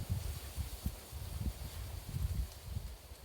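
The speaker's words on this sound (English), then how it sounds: "It's quite a gust of wind." Wind gusting outdoors during a chair-supported sun salutation session, heard as low, irregular buffeting rumbles and pulses of broad hiss close to the microphone, with no voices.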